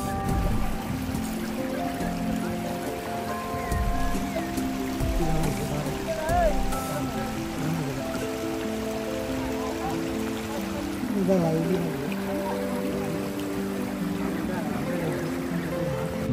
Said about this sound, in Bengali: ঢলের পানির আওয়াজটা কিরকম তা একটু শোনানোর চেষ্টা করেছিলাম।